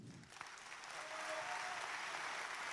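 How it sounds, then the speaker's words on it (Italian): An audience at Sanremo applauds a tango dancer, dense continuous clapping that swells after a brief start and holds steady, fairly distant, with no talk over it. "Quindi un applauso al più grande tanghero, Michelangelo Zotto"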